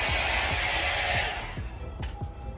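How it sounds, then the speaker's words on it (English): A blow dryer whirs loudly for just over a second before cutting off and spinning down. Faint clicks and knocks of handling follow in the quieter stretch. "I turned the blow dryer on"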